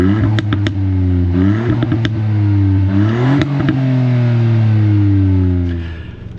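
A Ford Fiesta ST Performance Edition hot hatch revs hard while stationary, its engine note rising and falling through several loud, close blips before easing back toward idle.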